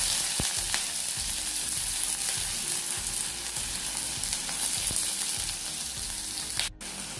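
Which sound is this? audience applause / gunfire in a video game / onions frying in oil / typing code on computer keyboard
onions frying in oil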